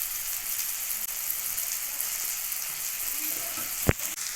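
Spiced masala with tomato fries in a pan for a yogurt chicken dish, giving a steady close sizzle throughout, with a brief sharp clatter of a utensil near the end.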